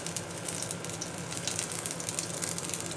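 A chicken vegetable kabab frying in a pan gives off a steady, dense sizzle with crackling oil spits, close and continuous throughout without talk.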